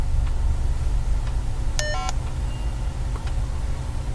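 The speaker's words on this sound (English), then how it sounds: "You hear that beep? It says the battery is low," A walkie-talkie gives a short low-battery warning, a quick two-tone electronic beep pattern lasting about half a second, heard once over a steady background hum.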